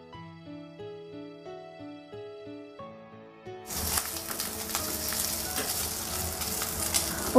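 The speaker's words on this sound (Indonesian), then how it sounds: "Panaskan sedikit minyak, lalu goreng udang." Shrimp frying in a little hot oil while cooking mustard greens, a loud continuous sizzle that bursts in halfway through after a stretch of music and then crackles steadily to the end.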